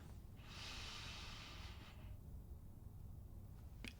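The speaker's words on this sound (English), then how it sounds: "And then I take a deep breath." A single deep inhale drawn through the nose, a soft airy rush lasting about a second and a half, close and quiet, followed by near silence.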